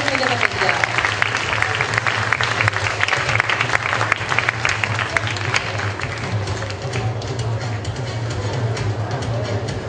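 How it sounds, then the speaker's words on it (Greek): Warm audience applause for the children at a school fashion show of recycled-material outfits, steady dense clapping from a full hall that holds for about ten seconds, with a low hum running underneath. "Ένα θερμό χειροκρότημα για τα παιδιά."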